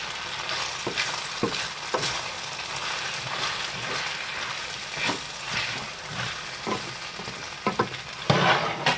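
Spaghetti with garlic and oil stirred in a hot pan, a continuous close sizzle with scraping and clacking stirring strokes over it.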